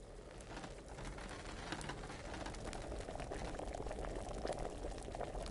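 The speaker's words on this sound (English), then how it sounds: "It's boiling good." Liquid bubbles and boils steadily over an alchemy fire in the video game Kingdom Come: Deliverance, a continuous low bubbling wash with no talk.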